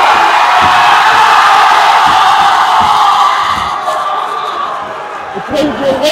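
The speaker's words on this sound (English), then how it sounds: "The crowd go wild there for young Finlay." Boxing crowd at a Boardwalk gym event roaring and cheering wildly after a body shot, a loud, sustained wall of yells and whoops that slowly fades.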